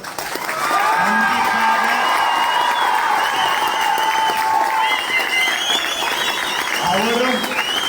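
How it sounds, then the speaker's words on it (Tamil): A crowd at a political party meeting applauds and whistles loudly for several seconds, sustained clapping with rising whistles and cheers throughout. "5 நிமிடத்திற்கு கைத்தட்டலும் விசிலும் பறந்தது"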